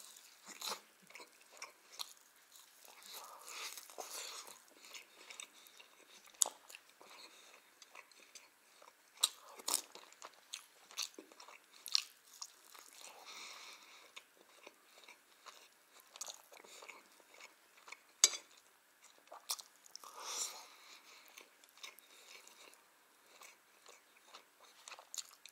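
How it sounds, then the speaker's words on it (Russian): Chicken meat being chewed while chicken soup is eaten: close, quiet, wet chewing and biting with irregular soft crunches and clicks, repeating over a long stretch. "Прихлебывая, так сказать, запивая мясо супом."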